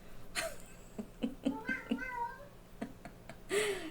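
A house cat meows repeatedly in short, insistent calls at a closed closet door, fairly near and moderately loud, with a longer drawn-out meow at the end and faint background noise between.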